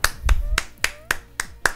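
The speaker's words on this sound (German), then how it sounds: "Hörst du den Applaus?" Applause in a Pokémon video game comes as a sparse series of about seven sharp, evenly spaced claps, crisp and close with short gaps between them.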